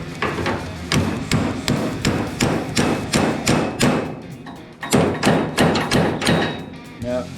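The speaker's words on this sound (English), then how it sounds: "I'll start off with the little hammer." Steady, repeated blows of a small hammer tapping a stuck part out of a Camaro race car, about two strikes per second, close and loud, in a workshop setting.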